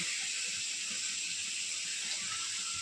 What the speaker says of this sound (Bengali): আমরা এখন মাছটা দিয়ে দিব, মাছ কষায় নিব